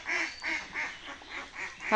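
Farm ducks quack in a steady series of about six close, loud calls, evenly spaced, with no talking.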